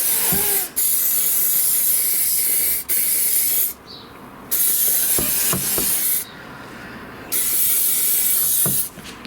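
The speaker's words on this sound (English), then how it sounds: "You know what, let's give it a little spray." An aerosol spray can sprays lacquer onto a small model in three long, loud, close hissing bursts, each cut off sharply with brief silent gaps between.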